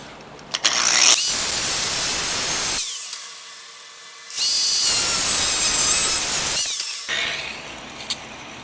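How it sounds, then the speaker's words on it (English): Grinder cutting into a custom battery box for an Evo Sportster Harley chopper: two loud, close, sustained harsh bursts with a brief quiet pause between them. "Alright, switch my grinder finally."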